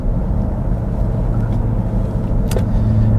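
A 2021 Dodge Durango SRT 392 AWD accelerates, its engine a loud, steady low rumble with heavy road and cabin noise throughout and no speech.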